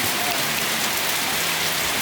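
Steady, dense rain pouring down in northern Thailand, a loud continuous hiss of drops hitting surfaces with no break throughout.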